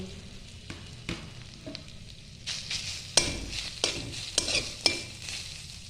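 Cashews, raisins and chopped coconut fry in oil while a spoon stirs and scrapes the pan, giving soft sizzling broken by several sharper clinks and scrapes.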